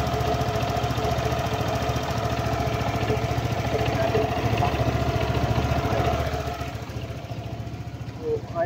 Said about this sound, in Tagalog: paki-comment naman kung maingay ba o normal lang ang ganitong tunog sa mga scooter engine